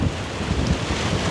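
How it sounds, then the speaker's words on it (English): Storm wind and about two-foot whitecapping waves smashing against a lake shoreline, heard as a steady rushing roar with buffeting wind on the microphone, no talk. "We have about 2-foot waves right now, and they're white capping"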